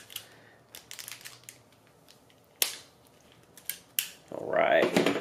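Scissors cutting a hole in a plastic packaging bag holding an M.2 SSD during a Ryzen 5 5600X PC build: a close series of crisp snips and crinkles at uneven intervals, ending in a louder rustling burst.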